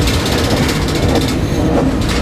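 A freight train pulling out of Mobile, heard from aboard by a rider, a loud, close, continuous rumble and rattle of railcars with faint rhythmic clacking.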